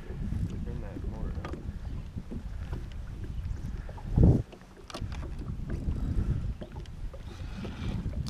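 Outboard motor on a fishing boat during a bass fishing trip, a steady low rumble that runs the whole time with wind noise, plus one brief louder bump midway.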